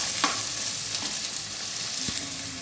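Onions and green chillies sizzle in a pan with salt while a spoon stirs them. A steady frying hiss runs throughout, with a few sharp scraping taps, and there is no talking.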